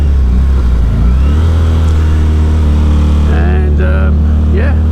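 An Aprilia Tuono 660 motorcycle engine runs loud and close, holding a steady drone before the revs climb and rise and fall in pitch near the end, with a voice faintly mixed in.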